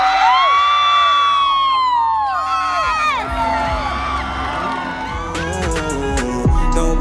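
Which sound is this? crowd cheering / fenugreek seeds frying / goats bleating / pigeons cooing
crowd cheering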